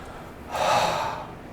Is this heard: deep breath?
yes